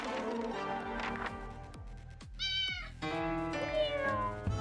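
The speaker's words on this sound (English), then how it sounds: "Keep the cat? Okay. We will let it inside." A cat meows several times inside a video game, short plaintive calls rising and falling over game music and ambience, close and moderately loud.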